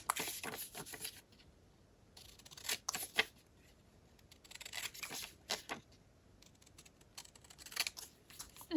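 Scissors cut paper for an upcycled wall calendar in a quiet room, several short crisp snipping bursts separated by pauses and light paper rustles.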